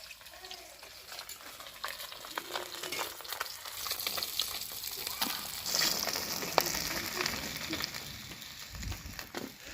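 Fish pieces fry in a pan of hot oil, making a soft continuous sizzle and crackle broken by faint scrapes and clinks of a utensil, with no one talking.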